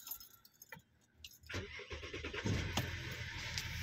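An Audi A6 engine cranks and starts on a cold day after faint key jingling, then settles into a steady running rumble close by.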